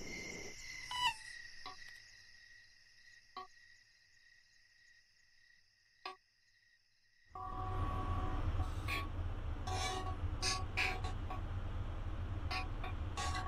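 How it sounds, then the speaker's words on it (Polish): A train in the MaSzyna train simulator game rolls past with a loud sustained rumble and clatter that sets in suddenly after a quieter stretch of insect-like ambience and a few faint clicks. "Nie wiem, pociąg jedzie."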